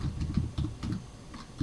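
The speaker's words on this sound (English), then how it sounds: "type the function" Fingers tap on a computer keyboard in short uneven bursts of clicks, quiet and close, with no voices.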